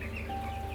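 Poultry chickens on a farm cluck faintly in a continuous, low murmur over a steady background hum, with no clear individual calls standing out.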